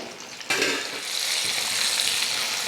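Sweet potato bonda fritters deep-frying in hot oil, a steady dense sizzle that jumps louder after a soft start and holds bright and continuous close by, with no talk.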